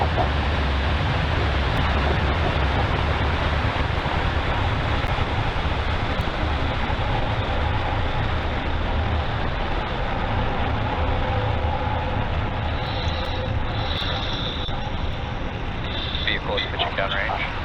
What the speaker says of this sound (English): Engines full power and ignition. Lift off for Falcon 9.